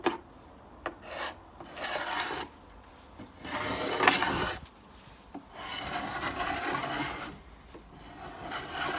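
Paint being scraped off wooden weatherboards, with acrylic paint coming away down to bare wood: a series of rasping strokes in irregular bursts with short pauses between them, close and moderately loud, with no talk.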